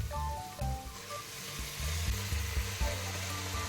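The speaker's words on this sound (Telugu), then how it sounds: "గోంగూర చాలా సాఫ్ట్గా ఉడికే వరకు మనం కలిపేసుకోవాలి" Gongura leaves cooking down with softened tomato and spices in a pan, a steady close sizzle with scraping stirs and low clunks of the spoon against the pan throughout, no talk.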